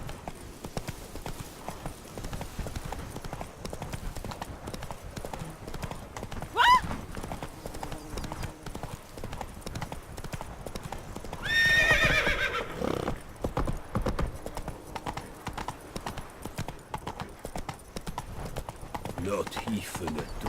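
Rhythmic hoofbeats of a galloping horse in The Witcher 3: Wild Hunt – Blood and Wine, with a sharp whinny midway and a snort later, under faint background music.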